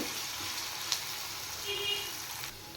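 Chopped onion fries lightly in a pan with whole cumin seeds, giving a soft, steady sizzle with faint crackles, quiet and close throughout.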